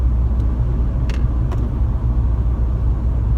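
Steady low rumble of a car driving along a road, heard from inside, with a few faint clicks over the continuous drone.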